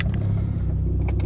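A car engine idles just after starting, a steady low rumble close by with slight fluctuations and a faint mechanical rattle near the end.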